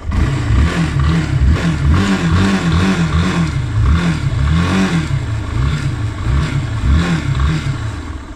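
The engine of a Feichi 250 motorcycle revs under the throttle, loud and close, in a series of rhythmic surges that rise and fall repeatedly over a rough mechanical clatter.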